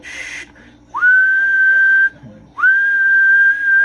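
Two long, steady single-pitch whistles into a Cobra 29 CB radio microphone, each held about a second, close and loud, with a brief pause and faint noise between them.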